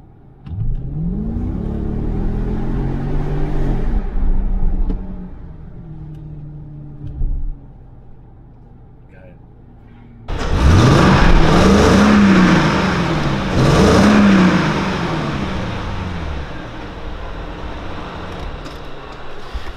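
A Mercedes CL 500 engine, formerly lacking power, revs hard twice after a short burst of idle, each rev a loud close roar rising and falling, with a quiet idling pause between them.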